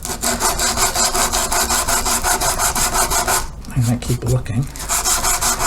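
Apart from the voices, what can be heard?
shaping and smoothing a wooden bass neck by hand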